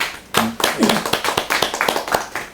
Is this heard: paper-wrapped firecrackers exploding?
no